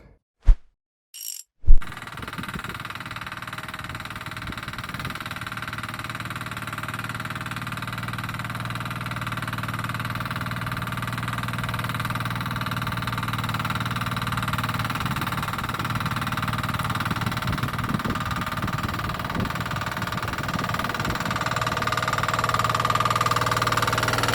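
A DTZ walking tractor engine running steadily while ploughing wet black chernozem soil, a continuous mid-pitched drone that grows slightly louder over time after a couple of brief knocks at the start.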